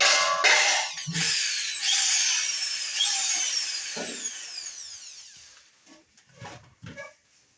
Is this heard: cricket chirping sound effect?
no